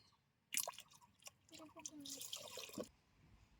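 Cow's milk pours from close by into water and fried rice in a rice cooker pan for pulao. The soft liquid splashing lasts about two seconds and then stops.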